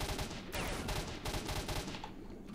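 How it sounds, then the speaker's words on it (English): Heavy gunfire in the video game S.T.A.L.K.E.R.: Shadow of Chernobyl, a continuous, dense rattle of overlapping shots from several shooters that stays loud throughout the brief stretch. "there's so many of them I don't even know where they're shooting from."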